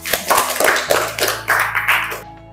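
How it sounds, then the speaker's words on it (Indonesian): Classroom applause for a student group, a burst of hand clapping from several people lasting about two seconds before stopping abruptly. "Oke, beri aplaus untuk kelompok"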